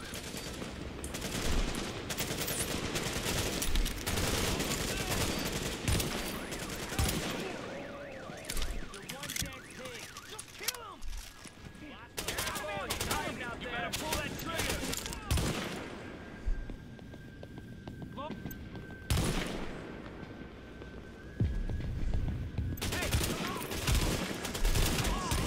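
Bursts of rapid automatic gunfire and scattered shots sound during a firefight in the video game Tom Clancy's The Division. Alarm-like warning tones and spoken voices come through in between.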